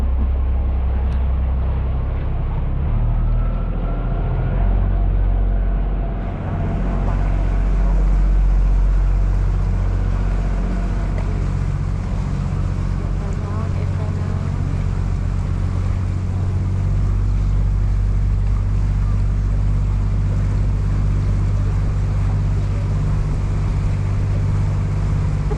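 Small tour boat cruising along the river in Bruges, a steady low engine rumble with water wash and wind buffeting the microphone, continuous and close.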